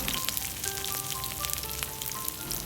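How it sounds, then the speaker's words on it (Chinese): Garlic and dried chilies stir-frying in hot oil in a pan, a steady close crackling sizzle with small pops throughout. "先炒一下我们的大蒜还有干辣椒"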